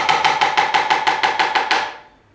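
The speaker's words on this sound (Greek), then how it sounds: "Μανιτάρια, κόβουμε τα μανιτάρια μας. Το κόβω μία στη μέση εγώ" Mushrooms being cut in half with a knife on a board, about ten quick, even chopping taps in a steady rhythm, close and clear, then stopping.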